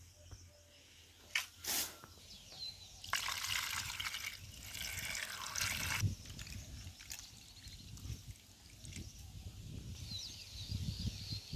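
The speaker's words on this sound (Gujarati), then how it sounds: "પાણીમાં બે વાર આપણે પાણીમાં ધોઈ નાખશું" Bitter gourds being washed by hand in a basin of water, with close, irregular splashes, sloshing and trickles rising and falling throughout.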